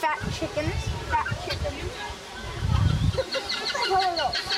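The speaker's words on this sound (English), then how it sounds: "Remember those fat chickens?" Plump chickens at a jungle zoo cluck and squawk in busy, overlapping calls, heard close under people talking and a steady rushing background.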